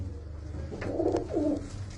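A pigeon coos nearby in two soft, low, rounded phrases over a faint background hum, with no talking.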